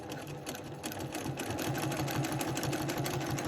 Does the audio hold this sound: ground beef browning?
no